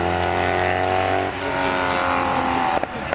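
Steyr Puch 650 TR historic racing car at the Rechberg hill climb, its engine droning loud and close with a steady harmonic note before launching and dropping into a rougher, busier tone.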